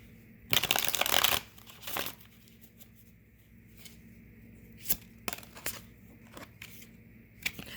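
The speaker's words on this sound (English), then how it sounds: "Let me shuffle this and see what comes out." Tarot cards are riffled in a quick crisp burst, followed by softer scattered flicks and taps as the deck is handled in a quiet room.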